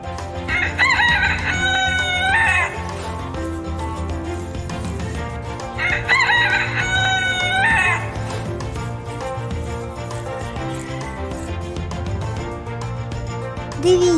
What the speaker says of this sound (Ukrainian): А це півник. Він кричить кукуріку.